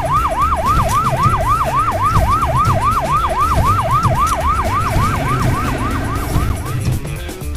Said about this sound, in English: This is an ambulance.